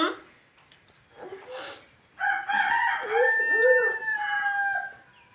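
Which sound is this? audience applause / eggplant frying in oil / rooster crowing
rooster crowing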